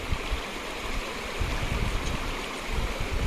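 Water runs down a hillside after a landslide near a jungle house, carrying soil, a close, continuous rushing and gurgling flow with no voices.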